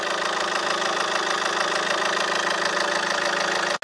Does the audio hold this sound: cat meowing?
no